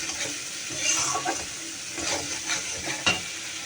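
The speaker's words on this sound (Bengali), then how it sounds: "এ দেখো মশলা কষে ওর মধ্যে ফুলকপি আর আলু আমি দিয়ে নিয়েছি এবার এটা দিয়ে আরেকটু কষবো" Cauliflower and potato frying in a spice masala, with a wet sizzle and bursts of stirring and scraping in the pan, fairly close, plus one sharper knock near the end.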